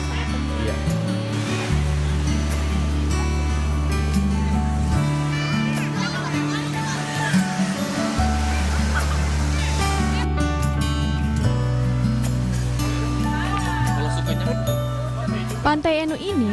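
Surf rolls continuously onto Pantai Enu beach in Enu village, Indonesia, with children playing and shouting over loud, steady background sound and music-like tones.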